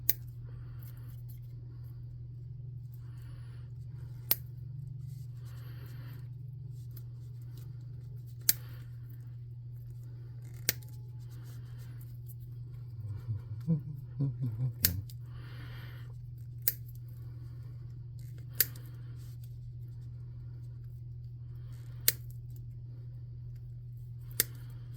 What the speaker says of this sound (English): what we want to do is kind of snip this off to the round spot down here